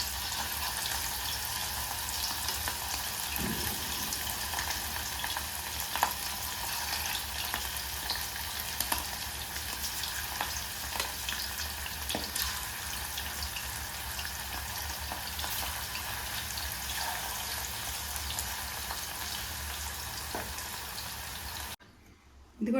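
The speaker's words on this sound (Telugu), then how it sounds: "ఆయిల్ వేడైన తర్వాత ఈ ముక్కలు ఫ్రై చేసుకోవాలి." Fish pieces deep-frying in hot oil for a Kerala-style pickle give a steady, dense sizzle that holds evenly for about twenty seconds, then cuts off abruptly near the end.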